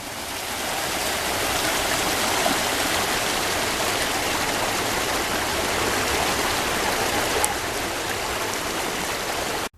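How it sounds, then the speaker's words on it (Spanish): Foaming polluted water pours steadily from the Chichimene station into a river in Colombia, a dense, continuous rushing and splashing roar that holds at an even level throughout. "nos encontramos el monstruo de la espuma que cae de la estación Chichimenes, que termina con contaminar todo nuestro río"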